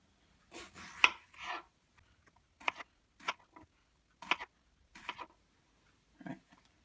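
A knife chopping food for a Thai green curry with chicken, several separate crisp cuts against a board spaced out over a few seconds, quiet and close with near silence between strokes.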